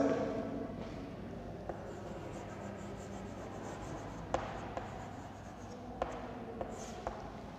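Pen writing out figures for a cylindrical tank volume problem in a maths lesson, a soft continuous scratch over steady room hiss with a few light taps, close and quiet.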